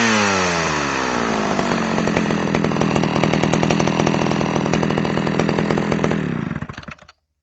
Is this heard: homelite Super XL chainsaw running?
yes